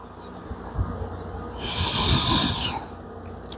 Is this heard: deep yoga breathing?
yes